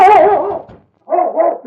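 A large dog named King barks loudly and close in a radio drama, one drawn-out bark followed by a short pause and then a second, shorter pair of barks with no talking.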